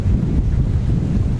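Gusting wind buffets the microphone aboard a Lagoon 440 catamaran under sail at about 7 knots, with a low rumble of water rushing past the hulls, loud and close.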